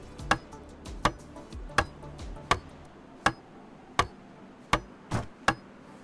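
Hammering wooden planks into place in the DayZ video game, nine sharp, evenly spaced knocks about once per second, dry and percussive, with no talking.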